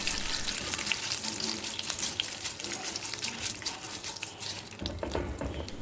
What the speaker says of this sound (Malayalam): ചേർത്ത് കൊടുത്തിട്ട് നന്നായിട്ടൊന്ന് ഒരു 4-5 സെക്കൻഡ് നേരത്തേക്ക് വഴറ്റി കൊടുക്കാം.